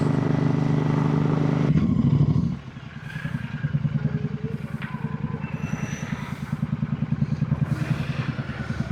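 A motorcycle ridden on a road with bumps and small potholes, its steady engine drone rolling along up close, with rattling thumps and clatter as the bike jolts over the rough surface.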